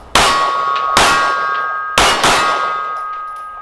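Three sharp 9mm compact pistol shots, each followed by the long metallic ring of a struck steel target plate on an outdoor range, spaced about a second apart, with the ringing decaying between impacts.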